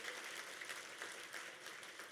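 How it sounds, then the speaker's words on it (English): A crowd applauding at a South Florida Muslim community coalition event, steady clapping heard faint and distant that holds evenly for a couple of seconds with no voices. "Another big round of applause."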